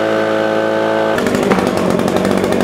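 A handheld leaf blower roars on loudly during lawn care after a brief quieter stretch, its steady whine and airflow rushing close up for the rest of the moment, with no talking.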